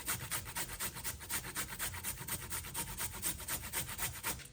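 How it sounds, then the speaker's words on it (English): Steady rhythmic rasping of vegetables and potatoes being grated for alu methi sabji, quick regular back-and-forth strokes with a dry scraping texture, close and fairly quiet with no talk. "I'm just going to grate this, obviously, along with the potatoes."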